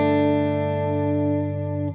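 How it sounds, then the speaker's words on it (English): An electric guitar chord rings through a stage reverb pedal with pre-delay, a smooth sustained wash that fades slowly on its own with no talking. "This is just my stage one reverb. As you can hear, just a little bit of a wash."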